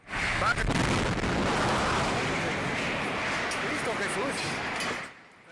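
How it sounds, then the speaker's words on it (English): A loud, sustained roar of fire and blast noise from a gas truck burning after a gas explosion at a Mexico City maternity hospital, dense and rumbling with crackling throughout, fading out at the end; voices shout faintly underneath. "A gas truck burns at the scene of the massive explosion"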